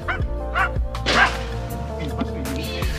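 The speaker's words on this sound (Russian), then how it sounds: "Это у соседей собачка бывает." A small neighbours' dog yips and barks a few times in a summer garden, the short sharp calls scattered through the clip and mixed with a voice talking nearby.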